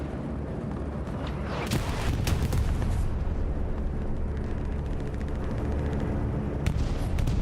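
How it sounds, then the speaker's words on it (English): Bombing run explosions from a World War II video game rumble continuously in a dense low boom, with sharper blasts bursting through around the two- and seven-second marks, no voices present. "We see a bombing run coming through for the Axis forces."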